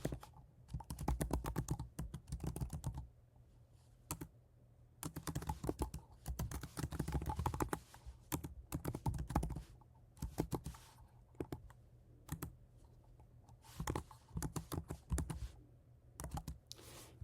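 Python code being typed on a computer keyboard: bursts of rapid, close key clicks with short pauses between runs, no voices.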